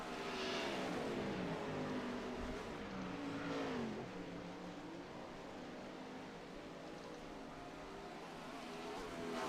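410 sprint cars race on the dirt bull ring at Lernerville, a loud, continuous roar of engines with pitch sweeps as the cars rev and pass. Distant crowd and track noise sit underneath.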